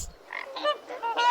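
A goose honks in a quick run of several nasal, harmonic calls that grow stronger toward the end, close and clear with no talking.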